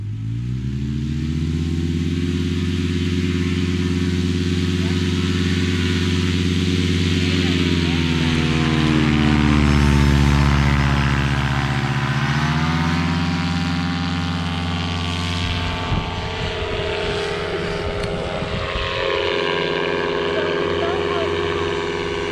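A paramotor engine at takeoff, a loud, close propeller drone holding steady, swelling in pitch, then fluctuating under wind buffeting.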